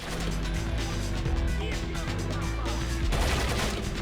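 Gunfire in the Splinter Cell video game, a rapid run of loud sharp shots over a steady background of game music and ambience, with a heavier burst near the end.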